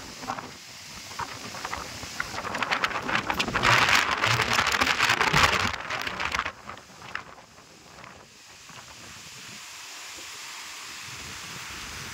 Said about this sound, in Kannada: ಮಳೆ ಬೇರೆ ಆಗ್ತಾ ಇದೆ,